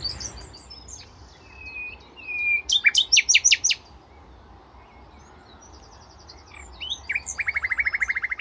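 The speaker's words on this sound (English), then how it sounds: "that bird up there with the crazy sound is a common nightingale" A common nightingale sings from a hedge, giving bright whistles and then fast, loud, repeated staccato bursts in two clear phrases, with quiet pauses and a soft ambient hum between them.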